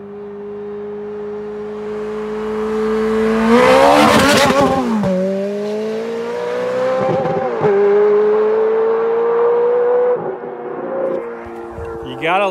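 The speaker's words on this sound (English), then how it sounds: "Gotta love the sound of that Ferrari, especially in the winter" Ferrari driving by in winter, its engine note climbing and swelling as it accelerates past, then dropping away and rising again, fairly close and loud.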